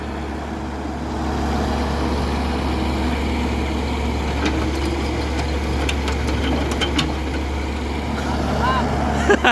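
Six-wheel truck engine running with a steady low diesel-like rumble and idle throughout, close by, with faint clicks and ticks on top.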